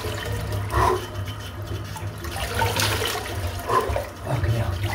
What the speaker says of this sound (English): Let's go for a cold water splash.